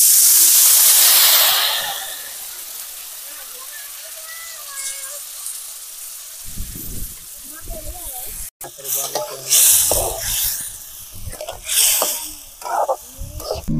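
Water poured into a hot pan on an outdoor riverside cooking fire hisses loudly at first, then fades to a quieter simmer, followed by clattering and someone talking.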